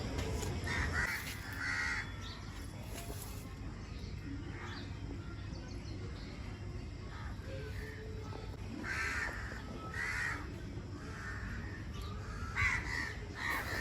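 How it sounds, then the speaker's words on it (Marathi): Crows cawing on a village morning around a home garden where fenugreek is grown. Intermittent caws come in short bursts at moderate distance over a steady outdoor background hum, with occasional faint chirps from other birds. "चिमण्यांचा, असं पक्ष्यांचा आवाज येताना तर अजून म्हणजे प्रसन्न वाटतं"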